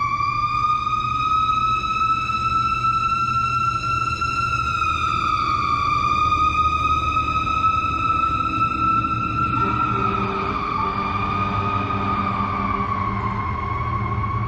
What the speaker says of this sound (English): Between the construction crews and the ambulances and the fire trucks, whew, not a peaceful setting.